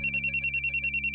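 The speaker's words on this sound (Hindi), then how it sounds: "अरे आपका फोन।" A telephone bell rings close and loud in a rapid, even trill of repeated electronic pulses, heard alone without any talking.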